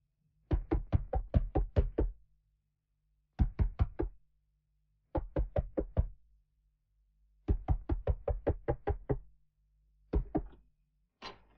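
Sharp knuckle raps on a door in quick bursts of four to seven knocks, separated by short pauses, loud and close in an otherwise silent room.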